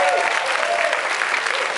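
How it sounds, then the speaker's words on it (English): A crowd at a student political conference claps in a thick, continuous burst of applause for a speaker, heard throughout the short moment. "So one more round of applause for Michael."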